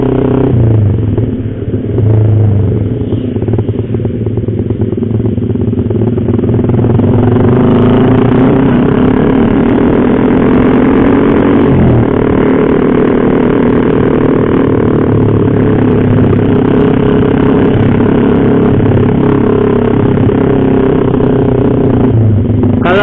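A motorcycle fitted with a racing exhaust rides along a road in Indonesia, its loud, continuous engine drone holding steady with slight swells in pitch as it cruises close to the rider.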